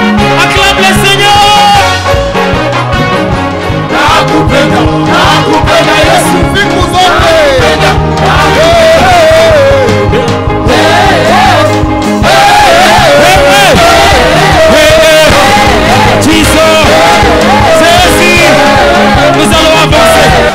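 A church congregation shouts acclamations of praise to the Lord, a loud, dense wall of voices under steady, full-volume worship music that continues throughout.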